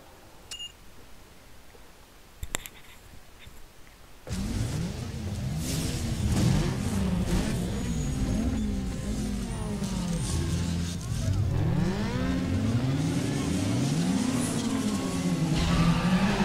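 Racing car engines roar through a drift race in Need For Speed Underground 2, revving and wavering in pitch after a quiet start with a few beeps, then loud and continuous with tires and gear shifts layered over a player's talk.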